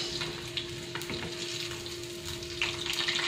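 Onions and aromatics sauté in a hot pan for afritadang dalag, a steady close sizzle and crackle running throughout with a faint constant hum and a few light clicks of stirring.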